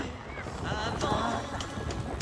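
A strong headwind buffets the microphone of a cyclist riding along a road, making a steady, close, rumbling roar with gusty swells and faint intermittent tones.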